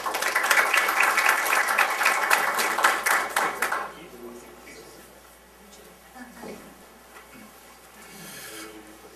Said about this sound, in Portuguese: Peço uma salva de palmas para ele.